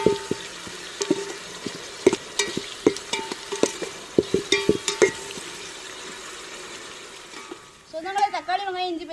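Onion, green chili, ginger paste and tomato sautéing in a pan while being stirred for chickpea biryani, with close scraping taps and a soft steady sizzle; a voice speaks near the end.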